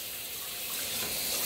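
Shower water running, a steady hiss of spray that swells slightly toward the end, close and continuous.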